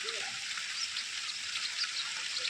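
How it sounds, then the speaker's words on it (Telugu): Heavy rain in Pavagada, Tumkur district, makes a constant soft hiss of falling drops that stays even and uninterrupted for a few seconds, with no one speaking. "ఇక్కడ ఫుల్గా వర్షం పడుతుంది"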